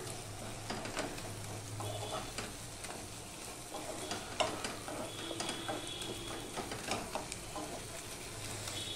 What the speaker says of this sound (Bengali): আর এইভাবে একটুখানি খুন্তির সাহায্যে আমি একটুখানি পেস্ট করে দিলাম